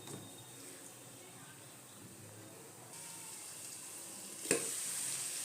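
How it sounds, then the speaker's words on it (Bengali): Raw jackfruit and potatoes sauté with spices in a pan over a medium flame, giving a soft, steady sizzle throughout with one sharp utensil clink near the end. "এই 2 মিনিটের জন্য আমি একটুখানি কষিয়ে নেব এগুলো একসাথে।"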